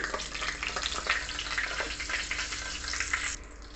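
Mustard seeds and dry asafoetida hit hot oil, making a dense, bright sizzle full of crackling pops that holds steady for a few seconds and then suddenly drops away.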